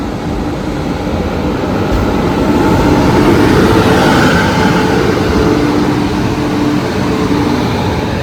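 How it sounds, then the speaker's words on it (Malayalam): The Shalimar–Thiruvananthapuram weekly express stands at a station platform, sending out a loud, steady rumble and hum that fills the whole stretch without a break. "ഷാലിമാർ തിരുവനന്തപുരം ഇത് വീക്കിലി എക്സ്പ്രസ് ആണ്."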